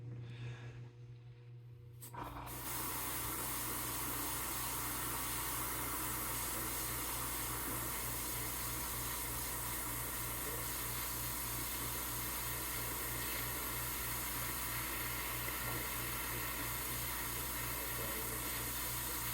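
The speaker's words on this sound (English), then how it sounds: "So we're gonna just spray this on, and we're gonna try and spray it on somewhat light." After a brief quiet start, an airbrush hisses steadily and continuously, spraying paint lightly onto a square bill crankbait fishing lure, with a low rhythmic compressor throb underneath.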